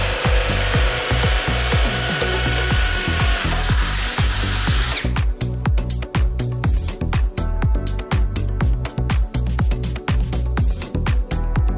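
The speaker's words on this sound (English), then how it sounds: "The impact move allows drilling into walls." A cordless lithium drill in impact mode hammers into a wall, first a steady grinding whir with rapid pulses, then a loud, choppy run of sharp percussive blows, close up and without speech.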